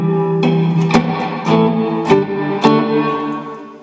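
Electric guitar played through a Blackstar HT-20 tube head and HTV-212 cabinet with digital reverb turned all the way up, several picked chords ringing into a big, washy room-like tail.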